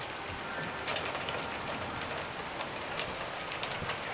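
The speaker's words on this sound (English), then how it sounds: "The rain has definitely picked up." Heavy rain pouring steadily during a windy thunderstorm in Dallas, Texas, a dense constant wash of noise with a few faint louder splashes, no voices.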